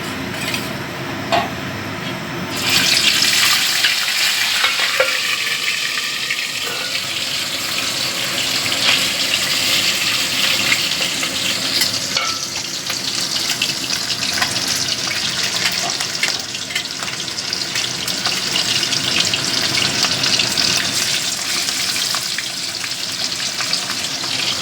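Pomfret fish dropped into hot mustard oil in a pan, a sudden loud sizzle that settles into steady, dense crackling and spitting frying for over twenty seconds, close and continuous, with no talking.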